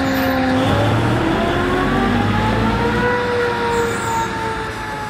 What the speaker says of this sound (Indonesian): Motor starternya, kedengeran?